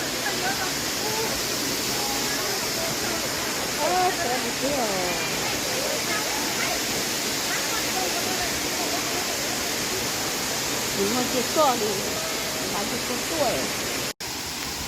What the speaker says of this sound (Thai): น้ำตกตาดเงือง